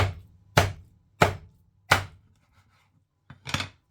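A butcher's knife chops through a pork loin, cutting it into thick chops: four sharp, close thuds on the board about half a second apart, a short pause, then a fifth chop, with no talking.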